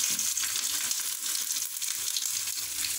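Small pieces of ginger fry in melted butter in a pan for paneer gravy, a dense, continuous close sizzle with no voices.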